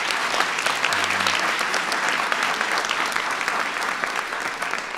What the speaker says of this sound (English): Give Oracle a big round of applause for that.